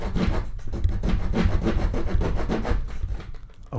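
Rapid back-and-forth sawing on wood with the small saw blade of a knife multitool, a dense scratchy rasp with a quick regular rhythm, close and continuous.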